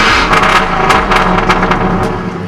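A straight-piped 2007 GMC Sierra Classic running on E85 revs hard and loud up close, its engine snarling through repeated sharp throttle blips with no talking.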